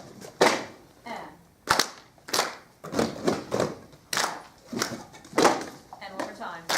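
Handbells struck together in a clapping technique at a handbell workshop, sharp percussive claps in an irregular series, close and loud, with a voice talking between the strikes.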